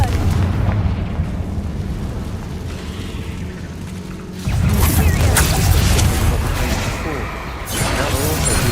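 The Confringo blasting spell in the video game Hogwarts Legacy goes off in a loud, sudden explosive burst that rumbles and crackles for several seconds, following a spoken voice and game ambience.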